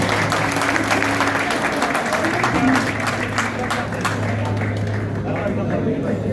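A crowd applauds at the opening ceremony of a cricket league season in Jhelum, Pakistan. The clapping is dense and sustained, with a steady low hum behind it, and fades slightly toward the end.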